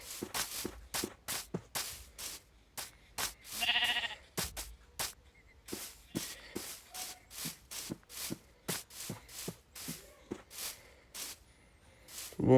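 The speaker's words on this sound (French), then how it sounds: "Alors, les moutons, je les collecte." Sheep in the Minecraft video game bleat a few times amid a steady run of blocky in-game footsteps, the bleats short and clear against quiet gaps.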